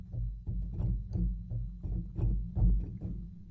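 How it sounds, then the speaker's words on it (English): Mechanical piano sample from the Quarantine Piano Kontakt library, playing only hammers and key mechanisms without strings: a run of dull, woody thumps and clicks in an uneven rhythm, close and fairly soft. "it's the sound of the hammers and all of the mechanisms that make the piano"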